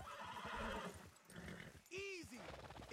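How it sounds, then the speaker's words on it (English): A horse whinnies loudly with a rising, wavering call, with hoofbeats and background game sounds around it, in Red Dead Redemption 2. "Is that horse okay, Alpha?"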